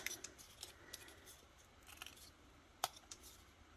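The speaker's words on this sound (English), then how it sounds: "I will trim the corners" Scissors trimming the corners of folded paper strips for a junk journal, a few quiet, sharp snips and soft paper rustles scattered close by in an otherwise hushed room, with no voices.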